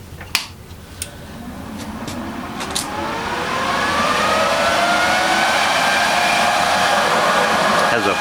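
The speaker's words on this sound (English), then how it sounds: "Has a pretty aggressive cooling fan, that's for sure." The cooling fan of a SanRex SanArg 180AP TIG stick welder spins up after power-on. A few clicks come first, then an aggressive whirring rises in pitch and settles into a loud, steady whine.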